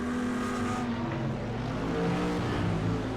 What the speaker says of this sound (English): Pace car is rolling.